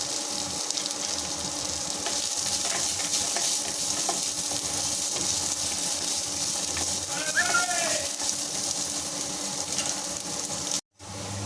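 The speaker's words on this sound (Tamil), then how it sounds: "வெங்காயம் நல்லா வதங்கிட்டு இந்த மாதிரி வதங்கணும்" Onions and cashews sauté in a pan for a cauliflower gravy, giving off a steady, close, broadband sizzle that runs almost unbroken and cuts out briefly near the end.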